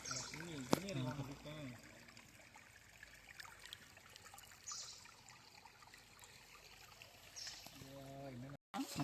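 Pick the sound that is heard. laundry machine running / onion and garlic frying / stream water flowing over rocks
stream water flowing over rocks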